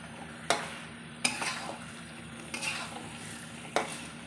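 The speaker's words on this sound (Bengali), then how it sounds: "এবারে চিকেনটাকে দিয়ে মশলাটাকে ভালো করে আমি কষাবো।" Chicken sautéing with spice masala in a pan sizzles steadily while a spatula scrapes and knocks against the pan about four times in a slow, regular rhythm, close and fairly loud with no voices.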